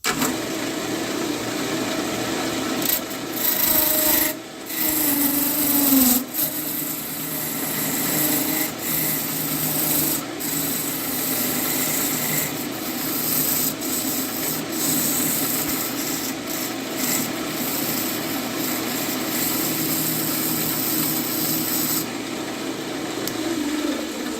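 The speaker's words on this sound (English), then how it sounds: "I'm going to cut this, get rid of all of my square edges, and basically I want to get the biggest piece out of this I can" Cherry wood blank being turned on a lathe to true up its square edges, a steady rough scraping and rasping of the tool against wood that runs continuously near and loud, with brief dips where the cut eases.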